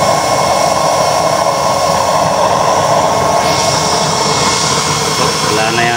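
A DIY waste oil stove burner with a 24-hole nozzle and a 3-inch chamber gives a loud, unbroken roar of flame that stays close and steady throughout, with no pauses.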